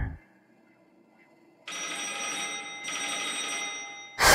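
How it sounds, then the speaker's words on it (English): A telephone rings inside the VRChat horror game IT Lives, two long bell-like rings with a short gap between, fairly loud and alone after a quiet stretch. "I'm not gonna answer that phone."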